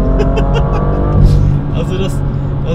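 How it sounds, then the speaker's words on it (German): A BMW M2 LCI F87 with DKG gearbox accelerates hard, its loud engine droning steadily with a sharp jolt of a slammed gear change partway through, while a person speaks over it. "was hier eigentlich passiert, wenn er so einen Gang reinballert"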